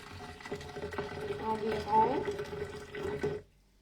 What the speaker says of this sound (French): on va mettre un 300 ml d'eau chaude